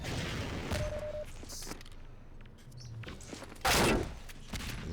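Shotgun blasts in a Half-Life 2 Deathmatch match, a couple of sharp bursts, one loud near the end, among scattered game noises and footsteps at moderate level, no talk.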